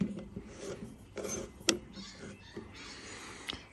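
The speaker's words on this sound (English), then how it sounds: "so we'll just screw that down a little bit." A tote bolt being screwed down on a Stanley No 10 hand plane, with quiet close rubbing and scraping of metal against wood and a few small sharp clicks.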